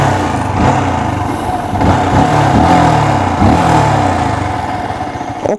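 A 2021 Yamaha Xabre motorcycle engine is revved up repeatedly, loud and close, its rough exhaust note rising and falling in several throttle blips over a steady idle.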